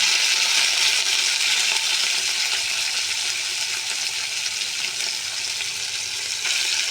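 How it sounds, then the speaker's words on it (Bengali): Chengbele fish frying in hot oil, a steady bright sizzle and crackle, close and continuous, with no voices. "এবার মাছগুলো আমি ভেজে নিই।"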